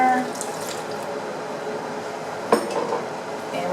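Water poured from a cup into a pot on the stove while making two-ingredient syrup, a steady close splashing trickle with a brief clink of kitchenware midway.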